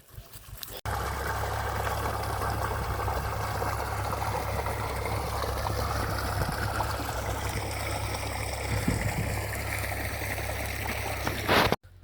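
Irrigation water from a large solar-powered motor pump pouring steadily into a wheat field, a continuous gushing, gurgling flow close by with no voices over it.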